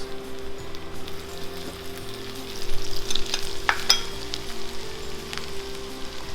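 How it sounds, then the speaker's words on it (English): Garlic and onions sauté in hot oil in a pan, a steady crackling sizzle with occasional stirring scrapes, close and moderately loud, over a low hum. "You heat the pan, then you add in oil, garlic,"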